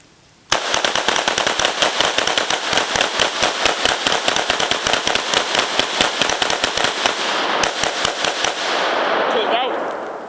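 An AK-47 and a Mini-14 rifle fire at a tree stump outdoors in a loud, rapid string of close gunshots that runs nearly nonstop for several seconds, then a short pause, a few more shots and a fading rumble.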